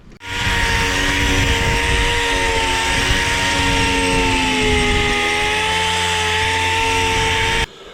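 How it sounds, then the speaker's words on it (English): Power sander working a rusty, fiberglass-filled gas tank for a Honda ATC200X with 40 grit paper outdoors, a loud continuous motor whine with a gritty abrasive rasp that holds steady for about seven seconds, then cuts off. "Sand this down with some 40 grit"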